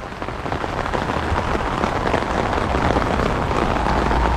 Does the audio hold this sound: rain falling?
yes